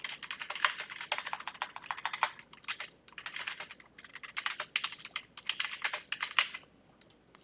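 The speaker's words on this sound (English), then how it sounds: "type your note" A note being typed on a computer keyboard: steady bursts of quick, light key clicks with short pauses between phrases, close and fairly quiet, with no talking.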